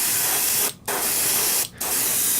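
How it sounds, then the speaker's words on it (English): Spray paint is applied to rubber foam rock terrain for tabletop wargaming, three loud, close, continuous aerosol hisses separated by two brief pauses. "So for these big rock features, we're going to spray the whole thing"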